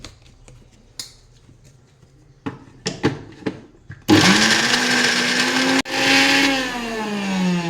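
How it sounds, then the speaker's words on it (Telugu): A mixer grinder whirs loudly as it grinds a stuffing for capsicum with rock salt, starting after a few scattered clicks and knocks, running steadily, briefly stopping, then restarting and spinning on close by. "ఇలా వేసి మిక్సీ ఆడించాలి"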